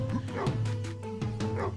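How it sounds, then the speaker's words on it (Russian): A rottweiler barks repeatedly in the brawler game Raging Justice, a close, loud run of yips and woofs in quick succession over roughly two seconds. "Нет, это не доберман, это, ребята, по-моему, ротвейлер, да, был?"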